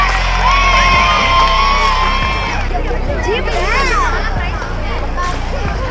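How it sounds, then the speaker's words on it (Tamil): A crowd at a school annual day cheers and whoops loudly. Children shout over a steady roar of applause-like noise that fills the whole stretch. "கைத்தட்டி உற்சாகப்படுத்துவோம்."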